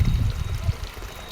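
Water pours into a tilapia and catfish fingerling tank on a small farm, a close, fairly loud gushing splash that eases into a lighter trickle over about a second and a half, with no talking.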